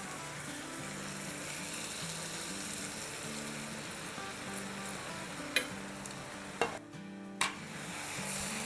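Mushrooms and bell pepper sizzle and fry in a pan while being stirred, a steady close hiss broken by a few sharp clinks and scrapes of the spoon near the end, with no one talking.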